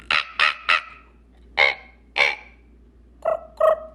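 A singer mimics a raven with her voice, giving seven harsh, throaty croaks in uneven groups of three, two and two, each short and loud against a quiet background.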